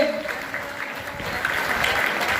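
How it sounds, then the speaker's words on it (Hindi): An audience applauds to welcome performers onto the stage at a community commemoration event in Morna, Noida, producing a steady wash of clapping at moderate volume that swells slightly toward the end. "जोरदार ताली बजा करके स्वागत करिए।"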